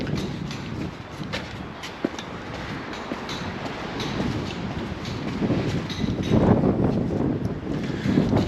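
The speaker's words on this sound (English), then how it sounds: "Getting a bit breezy." Wind blowing across a beach at Palmanova, Mallorca, a steady broadband rush and buffeting on the microphone that grows stronger toward the end, with no voices.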